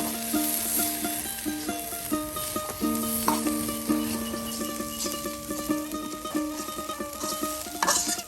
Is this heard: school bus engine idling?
no